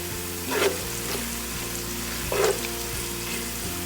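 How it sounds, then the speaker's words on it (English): Garlic and curry leaves crisping in hot oil for Kolhapur-style bhadang, a steady close sizzle with two brief louder bursts of crackle. "Now you can see our garlic and curry leaves are nicely getting crispier"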